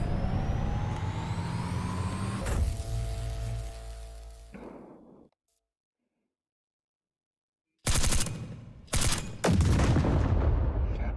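Gunfire from a fast-firing gun in the video game Crunch Element Alpha: a dense, loud roar of rapid shots that cuts to silence, then returns in several hard bursts.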